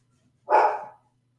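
A single dog barks once, a short loud bark close by, with a faint low hum underneath and otherwise quiet.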